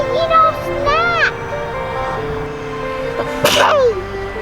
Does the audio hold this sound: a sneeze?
yes